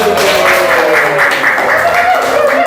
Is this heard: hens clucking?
no